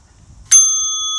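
An interval timer bell rings once, sharp and bright, signalling the end of an exercise round in a hunting fitness workout, its clear tone hanging and slowly fading.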